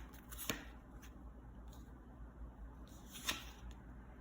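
Tarot cards are shuffled and drawn at close range, with two sharp riffling bursts standing out against quiet handling rustles and softer slides of cards between them.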